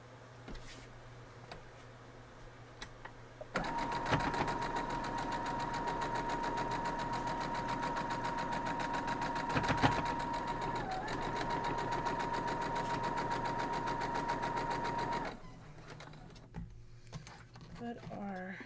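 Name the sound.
sewing machine stitching a quilt block seam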